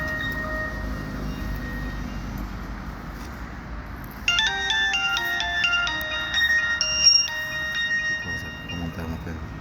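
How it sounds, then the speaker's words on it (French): A phone's electronic ringtone cuts in partway through, a bright repeating melodic pattern that plays over ongoing background noise and murmuring voices. "Téléphone qui sonne."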